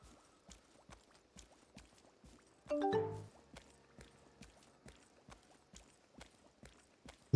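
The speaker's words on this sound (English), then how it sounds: "Yeah, just walking in with your horse." Horse hooves clip-clop at a steady walking rhythm in the video game Lost Ark, evenly spaced soft thuds across the whole stretch, with a brief liquid splash sound midway.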